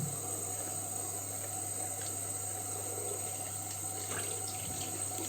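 Tap water runs steadily into a sink while the face is rinsed after removing makeup with sweet almond oil, a constant close splashing flow with small irregular splashes and no talk.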